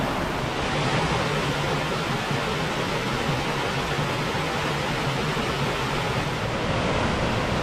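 Cavern Falls near Saluda, North Carolina, rushing as a steady, loud, broadband roar of falling creek water with no breaks and no voices.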